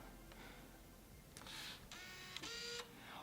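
A 2012 MacBook Pro starting up for the first time, giving faint, quiet mechanical whirring and brief clicking bursts, then a soft tone near the end, all heard alone without talk.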